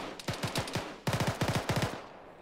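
Two short bursts of automatic rifle fire in the video game Arma 3, each a quick rhythmic string of cracks with a pause between, sounding moderately distant and clear with no talking.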